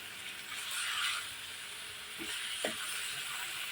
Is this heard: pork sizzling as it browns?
yes